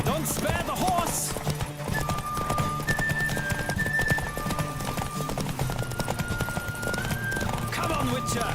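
Steady clip-clop of horse hooves at a fast gallop in the video game The Witcher 3: Wild Hunt, with a snort or whinny near the start and a faint tone and voices underneath.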